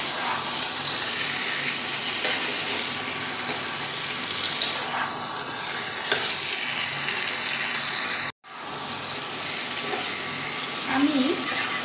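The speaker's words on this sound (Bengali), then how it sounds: "লো ফ্লেমে কিছুক্ষণ মাংসটাকে কষিয়ে নেব।" Chicken pieces cooking slowly in a pan over a low flame for a home-style kosha, a steady broadband sizzle with faint scraping running throughout, broken by a brief dropout near the end.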